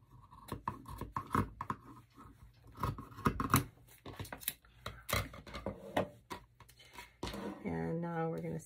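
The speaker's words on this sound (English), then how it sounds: "we're just gonna cut it in half" Scissors snip through a piece of cloth for a Dollar Tree Easter bunny craft. Close, uneven clipping and rustling run throughout, with a voice talking briefly at the end.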